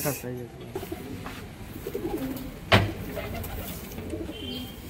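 Giribaz pigeons coo softly at intervals from nearby, partly beneath people talking, with one sharp knock partway through.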